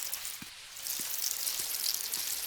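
Steady rain falls in the video game Dinkum, a dense even hiss with light pattering, continuous throughout.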